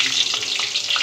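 Dried red chillies hitting hot oil in a pan give a loud, steady, close sizzle and crackle throughout, with no talk.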